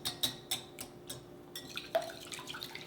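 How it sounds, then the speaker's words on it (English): Eggs and milk whisked in a bowl for French toast, a quiet run of light, regular clinks and taps of the whisk against the bowl, close and fairly soft with no talking. "And we'll just whisk that up really well."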